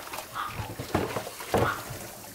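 Several dogs, including strays, whimper and whine in soft, uneven bursts at close range, mixed with faint rustling and low background noise.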